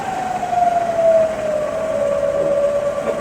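Manual milling machine spindle running at about 640 RPM, giving a steady, fairly loud whine with a slowly falling pitch that holds for the whole stretch, with no talk over it.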